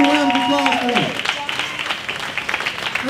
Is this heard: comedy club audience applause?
yes